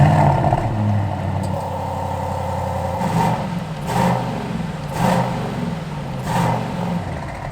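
Aston Martin DBX707 SUV engine revving while stationary with the brake and shift paddle held: a steady idle rumble rises into several loud, repeated throttle blips spaced about a second apart, close by and without speech.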